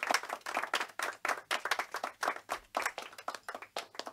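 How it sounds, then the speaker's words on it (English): A slow clap of single handclaps in a steady, unhurried rhythm, about four per second, fairly close and clear with no voices. "I like a good slow clap."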